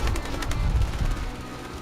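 Pigeons coo steadily in a garden, a low, soft, continuous murmur close by that fills the whole moment with no talking.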